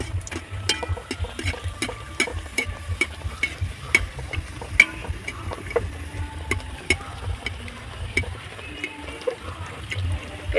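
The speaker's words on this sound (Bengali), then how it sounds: "কত সুন্দরভাবে তেল থেকে ফুলে গিয়েছে লুচিটা দেখুন" Luchi, small puffed fried bread, frying in hot oil, a soft bubbling sizzle broken by frequent sharp crackles and pops at an uneven rhythm, close and fairly quiet with no talk.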